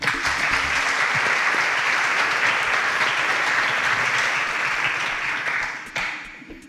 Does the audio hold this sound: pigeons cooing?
no